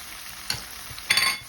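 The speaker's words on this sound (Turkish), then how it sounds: "Şimdi kıymamı da döküyorum." Minced meat hits a hot pan with tomato and garlic, giving two quick bursts of sizzling against a soft, steady frying hiss.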